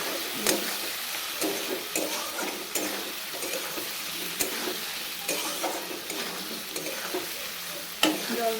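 Spices and potatoes fry in a pan for a lentil-fritter potato curry, with a continuous crackling sizzle broken by repeated scraping stirs of a utensil.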